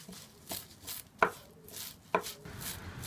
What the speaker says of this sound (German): Schneide ich gerne mit einem scharfen Messer.